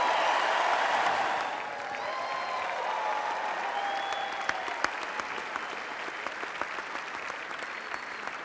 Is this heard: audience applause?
yes